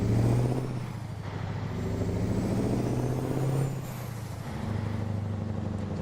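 A truck engine in American Truck Simulator drones loudly and then shifts up, the pitch dropping and climbing again in steps, with a steady rumble and no talking.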